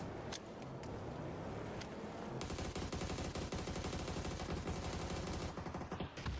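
Dense gunfire in a competitive video game league match, with bursts of shots and grenade smoke, a continuous loud rattle of rapid shots filling the whole stretch without a pause.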